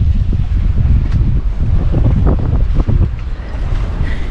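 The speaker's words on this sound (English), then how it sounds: "It's a little windy." Gusty wind buffets a Nordhavn 50 motor yacht at anchor in the Bahamas, a loud continuous rumble of wind noise across the microphone with fluctuating gusts.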